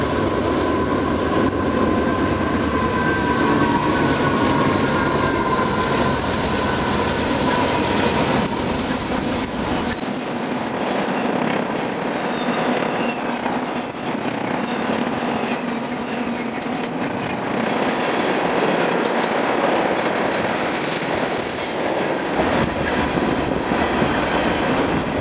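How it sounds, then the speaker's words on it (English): A short, early Union Pacific freight train led by UP 5688 rolls past in Utah, a steady loud rumble of wheels and cars going by for a long stretch with no voices. "Our next train would be a very early and short IO ANP"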